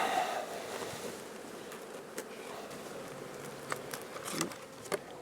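A steady low buzz of many honey bees around a hive hums faintly throughout, with a few soft taps and knocks scattered over it.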